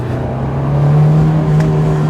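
A Honda S2000 sports car engine, a right-hand-drive Japanese import, hums steadily at fairly high revs, its tone rising slightly and then holding, loud and close.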